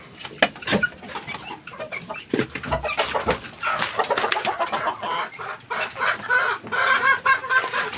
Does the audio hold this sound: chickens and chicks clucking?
yes